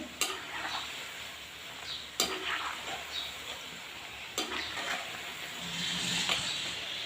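Potato balls deep-frying in a pan of hot oil, a constant soft sizzle and bubbling with occasional sharp ticks and clinks of a utensil, close and fairly quiet.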